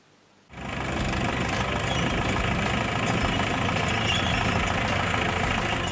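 Diesel tractor powering a mulching paper laying machine on a farm field, the engine starting up after a quiet moment and then running steadily and close with a rough, knocking rumble.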